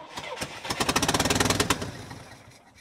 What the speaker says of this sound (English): she got bad exhaust leak